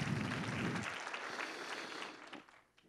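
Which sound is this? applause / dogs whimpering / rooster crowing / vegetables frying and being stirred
applause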